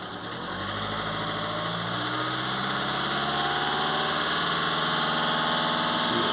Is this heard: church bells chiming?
no